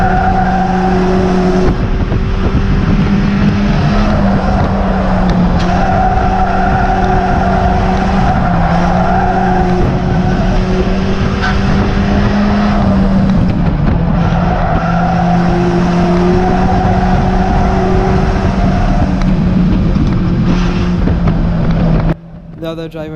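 Stock cars race around the oval at Cowdenbeath Racewall, their engines roaring loudly and continuously with rising and falling pitch as they pass, plus occasional tire scrubbing, for about twenty seconds until the sound cuts off.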